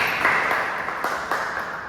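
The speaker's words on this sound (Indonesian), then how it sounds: "kita beri tepuk tangan bagi kita semua" A room of people applauds together in a steady, dense wash of clapping that holds at a fairly loud level throughout.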